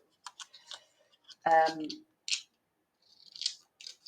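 Scissors snip through paper just below a score line, giving a few light, close cuts spread unevenly, with a brief voiced sound partway through.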